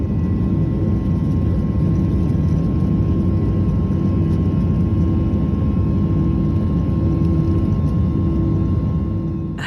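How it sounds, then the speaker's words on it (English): A small plane taking off from Broome, Western Australia, its engine a loud, continuous drone with a steady hum that holds throughout. "that sound effect is literally my plane"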